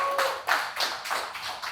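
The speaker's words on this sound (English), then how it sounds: "So I'd like you guys to give a big round of applause to our next speaker, Amit Gupta." An audience claps for the next speaker at a talk event, a light, fairly faint patter of applause with sharp individual claps rising and falling over a couple of seconds.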